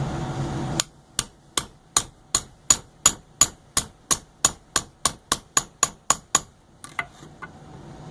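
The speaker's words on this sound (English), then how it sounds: "I'm going to show you a couple of whacks with this 4-prong chisel." Four-prong chisel hammered into leather, about nineteen sharp, evenly paced strikes, close and crisp with a short ring after each, then a couple of lighter taps to finish.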